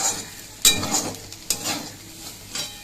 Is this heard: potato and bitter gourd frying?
yes